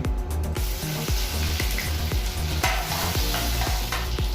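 Garlic and onion sautéing together in a pan for beef mechado, a loud steady sizzle broken by regular scraping stirs with a spatula, close and unbroken, no voices.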